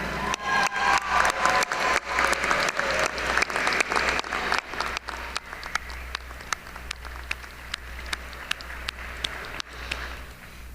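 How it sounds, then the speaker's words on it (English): A law school commencement audience, standing, claps in a dense, loud burst of applause that gradually thins into scattered individual claps toward the end. "please stand, turn around, and applaud your staunch supporters"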